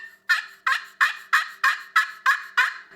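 A turkey friction call played with a striker gives eight crisp, evenly spaced yelps in quick succession, close and clear with nothing else around.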